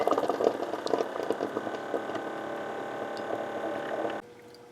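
A Keurig coffee maker runs a descale rinse cycle, pumping and gurgling water with bubbling and spurts for several seconds before dropping to a quieter low hum.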